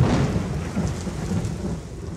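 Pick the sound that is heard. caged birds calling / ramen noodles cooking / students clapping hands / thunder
thunder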